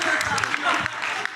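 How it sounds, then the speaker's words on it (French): Audience applause and clapping at a live show, a dense steady patter lasting the whole moment, mixed with crowd voices and chatter close by. "Oui, on peut applaudir."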